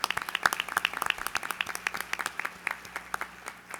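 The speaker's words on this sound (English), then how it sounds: "give them a round of applause" A small room of attendees at a WKU-sponsored Rooster Booster breakfast event claps, producing a short burst of distinct, separate handclaps in quick irregular rhythm, fairly close and moderately loud.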